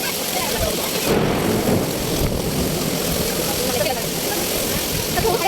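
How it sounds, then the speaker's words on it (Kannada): Heavy rain pours down during a thunderstorm, making a dense, continuous roaring hiss at constant loudness for several seconds. "ಫುಲ್ ಜೋರು ಮಳೆ, ಗುಡುಗು, ಸಿಡಿಲೆಲ್ಲ ಬರ್ತಿತ್ತು"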